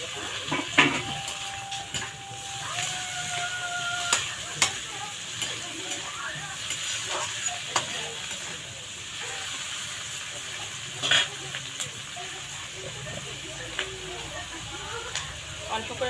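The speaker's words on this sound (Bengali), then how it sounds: "একে টমেটো কুচিগুলো দিয়ে দেবো কাঁচা লঙ্কা কুচিগুলো দিয়ে দেবো" Chopped tomatoes and green chilies go into a hot pan for tarka, sizzling and frying steadily while utensils clink and scrape against the pan, with a voice talking over it.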